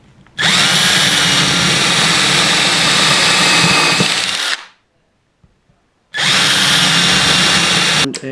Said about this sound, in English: 4mm drill for this one.